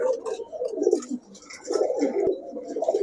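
Pigeons in a pigeon shop coo in low, throaty, rolling calls that overlap almost continuously, close by, with faint chirps and soft background noise between them.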